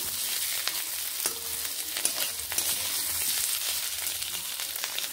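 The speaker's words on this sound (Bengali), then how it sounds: "এবার আলুগুলো এর সঙ্গে বেশ ভালোভাবে এভাবে ভেজে নিচ্ছি।" A constant sizzle of cut potatoes and onions frying in a pan, with occasional soft scrapes and clicks of stirring, no talking.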